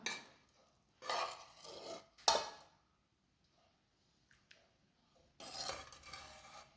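Candied papaya tutti frutti is spooned into bowls: short bursts of scraping, clinking spoon-on-bowl sounds separated by quiet pauses.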